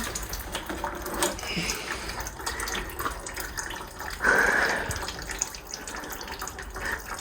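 Water runs and trickles from a disconnected radiator pipe on a 2005 BMW 328i E90, a faint uneven splashing with a brief fuller gush in the middle, close by in a quiet workshop.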